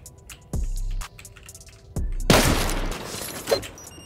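C4 charges blasting a turret during a solo raid in an online survival game, with two deep booms about a second and a half apart followed by a bigger crackling detonation with debris, loud and without talk.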